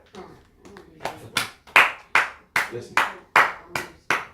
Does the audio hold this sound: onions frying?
no